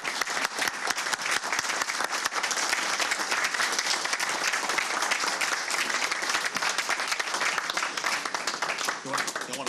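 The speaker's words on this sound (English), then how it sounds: "Now we can clap." Dense, continuous clapping from a seated audience at a Pasadena city council meeting, honoring fire department, water supply and 911 staff, holding steady for about ten seconds.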